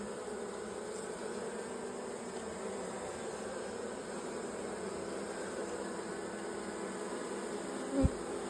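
Carnica honeybees hum in a dense, steady buzz around an open hive as a queen is released, with a single sharp knock near the end.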